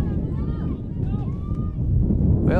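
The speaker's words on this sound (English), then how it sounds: "This camera is shaking. Holy, it is windy." Heavy wind buffets the microphone at an outdoor high school soccer game in a constant low roar, with a voice talking faintly underneath and a louder gust toward the end.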